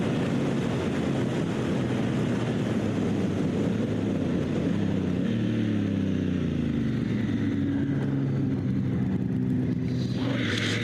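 Dirt motorcycle on Kenda Big Block tires running over sandy-topped hard pack, its engine a steady close drone with harmonic bands that shift as the revs rise and fall, plus wind rush throughout.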